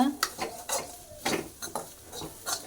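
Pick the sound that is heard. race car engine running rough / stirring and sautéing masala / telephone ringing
stirring and sautéing masala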